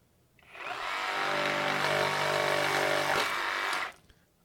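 A Milwaukee reciprocating saw blade chews through nail-embedded plywood, one loud continuous cutting run of about three and a half seconds with rough, rattling buzz that starts and stops abruptly.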